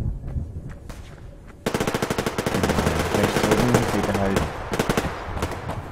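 Enemy weapons fire in the game Survarium: after a quieter start, a sudden loud stream of rapid automatic gunfire erupts and keeps hammering, with a few sharp separate shots toward the end.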